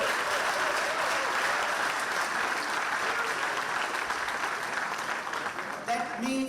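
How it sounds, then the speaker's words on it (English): A large audience at the ninth World Ranger Congress in Sauraha, Chitwan gives a big round of applause for the Ministry of Tourism, dense and sustained clapping that starts to fade near the end as a voice cuts in. "So big round of applause for the Ministry of Tourism."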